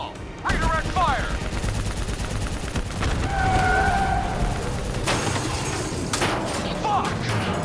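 Gunfire crackles in Call of Duty: Black Ops III battle, with bursts of shots over a loud rumbling combat din, whining tones and shouted voices in between.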